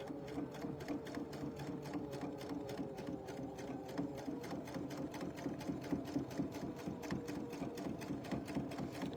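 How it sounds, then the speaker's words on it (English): A sewing machine straight-stitching rickrack onto a wall hanging, running steadily with a fast, even mechanical chatter of the needle close by and alone. "I'm just going to straight stitch this on"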